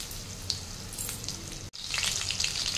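Boneless chicken pieces fry in hot oil over a high flame, a steady crackling sizzle that runs close and loud, with a brief sharp dip before the hiss swells brighter again.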